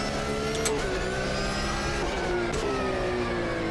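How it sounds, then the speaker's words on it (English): A continuous revving GT3 car engine in the racing game Automobilista 2 drones steadily, its pitch sliding and jumping abruptly at a couple of gear changes. "So listen to the gear shifts."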